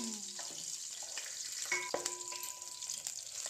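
Continuous sizzle of chopped onions frying in oil for bottle gourd tamarind curry, with a few metallic spoon scrapes and stirring sounds, no voices.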